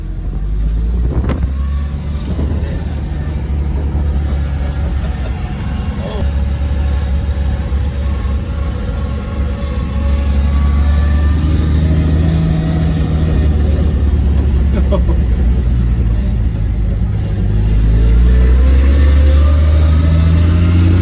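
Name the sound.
1966 Ford F350 truck driving on the road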